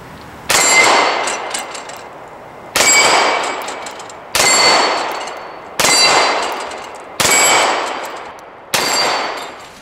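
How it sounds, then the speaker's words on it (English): A Kimber K6s six-shot .357 Magnum revolver fires at 6-inch steel plates 10 yards away outdoors: six loud, evenly spaced shots, each a sharp crack followed by a bright ringing clang of steel that decays between rounds. "we'll get out, shoot some steel, give you guys a chance to see that"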